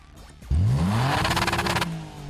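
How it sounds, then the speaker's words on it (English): An Alfa Romeo Brera's 3.2-litre petrol V6 cranks briefly, then fires and rises into a loud rev before settling to a throaty idle, heard close up with no talking. "Now start the car up"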